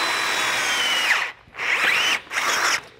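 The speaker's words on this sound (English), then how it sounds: "once we're done drilling out these holes, we can go ahead and put that cross member in" A power drill bores holes in a truck frame, giving a loud, close, high whine that runs for over a second, then two shorter bursts with brief pauses between them.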